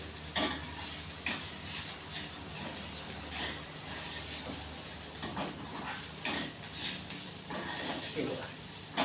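Bitter gourd pieces sizzling in a pan while being stirred, a steady frying hiss broken by repeated scraping strokes of the spoon, with someone talking over it.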